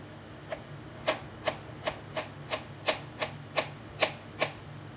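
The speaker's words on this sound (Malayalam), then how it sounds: "തൊലിയൊക്കെ കളഞ്ഞ് കുറച്ച് ചെറിയ പീസായിട്ട് കട്ട് ചെയ്തെടുക്കാം" Peeled elephant foot yam is cut into small pieces with a knife: a steady series of about a dozen crisp, close cuts against a board, evenly spaced and moderately loud, with no talking.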